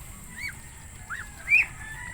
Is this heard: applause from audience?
no